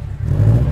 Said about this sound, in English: Impreza WRX. With the boxer burble, very nice.